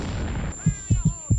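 Grenades burst one after another in a closed underground metal room in the Vietnam war shooter Vietcong, four short booming thuds in quick succession after a stretch of rumbling noise.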